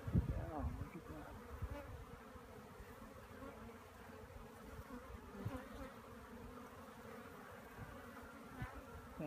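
Honeybees hum and drone around the entrance of a log hive, a continuous close buzzing with individual bees zipping past, at moderate loudness with no talk.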